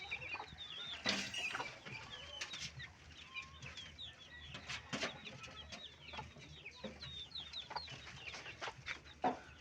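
Chickens cluck and call all around a house, a busy scatter of short clucks and chirps at varying distances, with bursts of wing flapping and scuffling mixed in.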